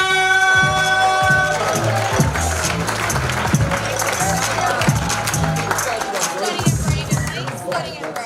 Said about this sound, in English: Please keep that applause rolling.